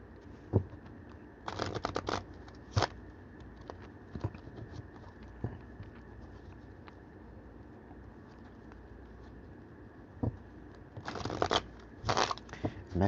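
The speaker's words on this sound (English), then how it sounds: "Let me give these cards a bit of a shuffle." A deck of playing cards is shuffled close up in two brisk riffling bursts separated by quiet taps and handling sounds.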